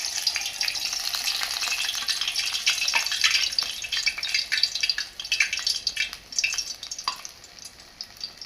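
Urad dal vadas fry in hot oil with a dense, crackling sizzle, steady at first and then breaking into sharper popping bursts as batter drops in, close and fairly loud, with no talking.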